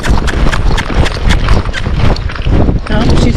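Tennessee Walking Horse cantering in a cross canter, its hooves pounding out a steady, loud rhythm of repeated beats close by, with no voices over the footfalls.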